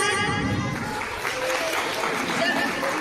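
A school annual day audience applauds in a steady wash of clapping across the hall, fairly loud and continuous, with some murmuring underneath.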